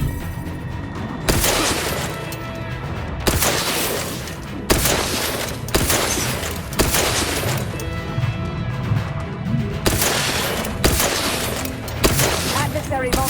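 Repeated bursts of loud, close gunfire in the video game The Outer Worlds, heavy volleys separated by brief gaps across the whole stretch, with a voice in the mix.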